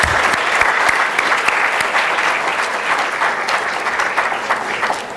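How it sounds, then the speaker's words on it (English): An audience at a high school early college symposium gives students a sustained round of applause, dense and loud clapping with no speech. "how about an extra round of applause for the students?"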